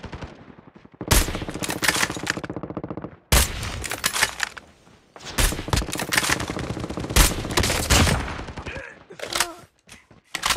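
Rapid bursts of gunfire in the mobile shooter Call of Duty Mobile, loud automatic volleys in long runs broken by short pauses, with a few sharper single shots near the end.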